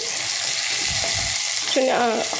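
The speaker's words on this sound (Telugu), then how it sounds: "ఆయిల్ వడ్డీ హీట్ ఎక్కిన తర్వాత అందులోకి వచ్చేసి మనం కట్ చేసుకున్న ఆనియన్స్ ముక్కలు ఉన్నాయి కదండి అవి వేసుకోవాలి" Chopped onions frying in hot oil for a mushroom curry: a steady broad sizzle throughout with a few soft stirring knocks, and a short clatter of a utensil near the end.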